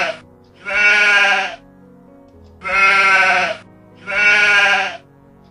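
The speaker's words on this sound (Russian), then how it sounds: "овечка" Three loud, drawn-out sheep bleats, each about a second long with a steady wavering tone, separated by short quiet gaps and heard alone with nothing else behind them.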